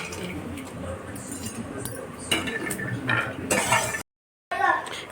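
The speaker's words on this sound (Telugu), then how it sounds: "ఈ పల్లీలు వేసి కొంచెం ఫ్రై చేస్తున్నానండి" Peanuts frying in a pan, heard as a soft sizzle under louder scraping and clinking of a spoon against the pan, close by, with a short dropout near the end.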